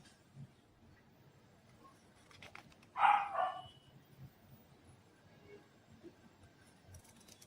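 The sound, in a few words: dogs barking outside a gate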